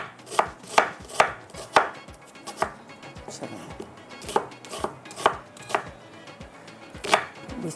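Sharp knife chops striking a cutting board in an uneven rhythm, a dozen or so distinct close-up cuts with brief pauses, no talking, in a home kitchen cooking fish curry, moong daal and lauki halwa.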